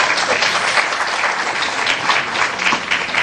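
Sustained applause from an audience at a Hindi poetry recital, a dense, steady wash of many hands clapping together without pause, fairly loud and close, with no voices standing out.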